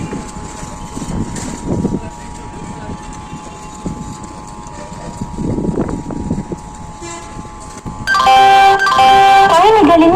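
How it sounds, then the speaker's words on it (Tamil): The Charlapalli–Tiruchirappalli weekly special express stands at a station platform, with a low rumbling railway hum and scattered clatter, then a loud tonal horn or chime near the end; voices can be heard in the background. "Cherlapalli, Tiruchirappalli Special Express is standing on platform number 5"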